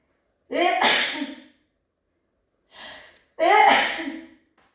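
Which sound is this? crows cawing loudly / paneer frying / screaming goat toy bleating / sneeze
sneeze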